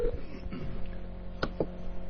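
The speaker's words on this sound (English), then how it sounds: "There's the phone ringing." A telephone sounds with a couple of short electronic tones over a steady low hum and faint background noise.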